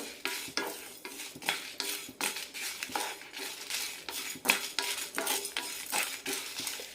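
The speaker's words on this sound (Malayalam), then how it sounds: "അഞ്ച് ചുവന്ന മുളകും ഒരു ടീസ്പൂൺ ജീരകം ഒരു ടേബിൾ സ്പൂൺ വെളുത്ത എള്ള് നന്നായി വറുത്തെടുക്കാം" Red chillies, cumin and white sesame seeds being dry roasted in a pan, heard as brisk, repeated scraping and rattling of a spatula against metal with faint crackle, close and steady throughout.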